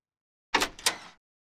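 A door unlocks in the Angels of Death video game, heard as two quick mechanical clunks in close succession, loud and alone against silence.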